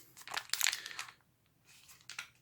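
Crinkling and rustling of a plain plastic New Zealand military 24-hour ration bag being handled, two bursts of crisp crackle separated by a brief pause, fairly quiet and close.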